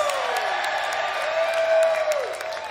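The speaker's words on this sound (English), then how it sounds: "That was a great round of applause. Let's do it again." A concert crowd cheers and applauds for the show's crew, with scattered claps and whoops spread across a large outdoor audience, fairly distant and under sustained tones and a voice on the PA.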